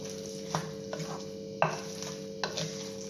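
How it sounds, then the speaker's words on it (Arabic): Ingredients mixed by hand in a bowl: soft squelching and scraping with a few sharper knocks spaced about a second apart, close and fairly quiet, with a steady faint hum behind and no talk. "تمزجوا المكونات هادو بيديكم"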